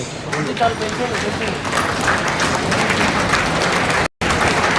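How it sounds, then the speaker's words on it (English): An audience at a live placement-hiring event on emerging tech breaks into dense, continuous applause that fills the room, with talk present and a brief dropout near the end. "let us welcome by starting and clapping"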